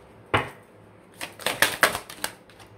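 Tarot cards being gathered and put back into the deck, with a single sharp tap followed by a quick cluster of papery slaps and shuffling clicks, close and alone.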